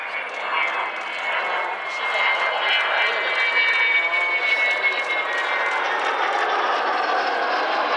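Avro Vulcan XH558 jet bomber flying at the Duxford airshow in 2012, its jet engines giving a loud, steady broadband roar that swells slightly and holds throughout without letting up.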